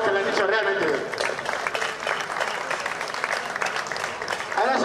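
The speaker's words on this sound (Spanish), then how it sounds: "Un aplauso para ambos, que lo han hecho realmente bien." Audience applause follows a staged sword-fighting bout at a historical reenactment, a steady wash of clapping from a crowd with voices mixed in underneath.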